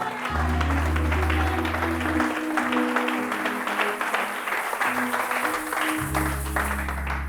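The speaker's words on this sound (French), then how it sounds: "quelqu'un acclame le Seigneur ici là" A church congregation breaks into sustained cheering and applause in praise of the Lord, a loud, dense crowd roar that holds steady throughout, with low sustained tones from instruments beneath it.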